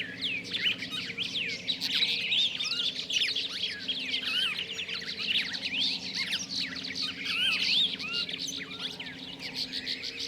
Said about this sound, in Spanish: El cardenal copete rojo tiene un canto muy bonito. Este se compone de silbidos melodiosos.